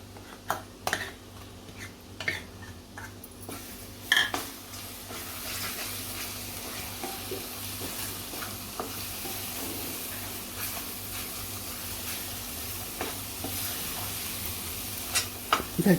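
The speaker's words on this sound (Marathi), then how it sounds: "हिरवं वाटण तयार केले ते तेलावरती परतायचं आहे" Green masala paste sizzles and fries in hot oil in a home kitchen while being stirred, a steady soft hiss with occasional scrapes and clinks of a spoon against the pan, close and continuous.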